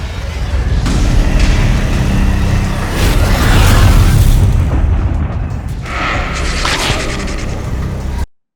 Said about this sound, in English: we can see the Stormgate on the right side that's about to explode